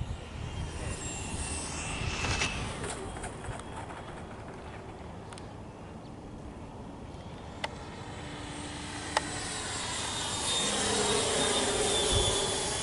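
A Freewing MiG-29 RC model jet in Polish Air Force markings approaching to land, its ducted-fan whine a steady, moderately distant drone that swells slightly toward the end, with a couple of sharp clicks and no voices.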